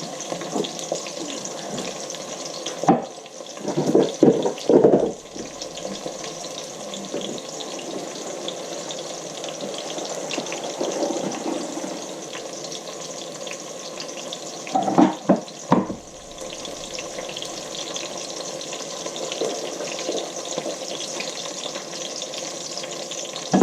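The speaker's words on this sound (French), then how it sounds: "je vais essorer mon riz, enlever tout l'eau, égoutter plutôt mon riz" Water pours and splashes in a sink as parboiled basmati rice is drained for lamb biryani, a continuous rushing flow with a few louder bursts and clatters.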